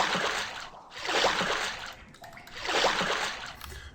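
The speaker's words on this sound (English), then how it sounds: "The water flows faster and faster." Water rushes and splashes in the video game Avernum II, a hissing flow swelling and fading in two broad surges, alone and fairly near.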